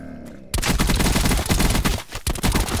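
Rapid bursts of automatic gunfire from a zombie survival shooter game, loud and dense for most of the span, with a brief lull near the end before the firing resumes.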